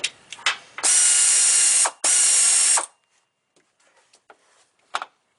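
Air ratchet working a bolt loose during compressor and condenser replacement on a 2010 fifth-generation car, two loud sustained whirring bursts of about a second each, followed by faint clicks and small knocks.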